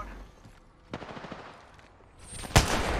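Video-game gunfire rings out in a short burst: a sharp shot near the one-second mark, a brief rattle after it, then a louder, harder crack near the end, with no talk over it.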